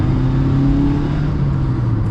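A big-block car engine runs close and loud, its deep, steady throbbing drone held at high revs throughout with no voices.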